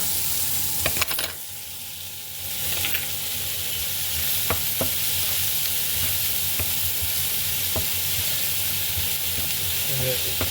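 Chopped ginger, garlic and onion frying in an oiled pan for ginger chicken, a loud continuous sizzle with scattered scraping and stirring clatter and a brief louder burst near the start.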